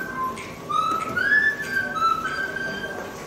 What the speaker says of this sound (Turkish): Güzel ıslık çalmış.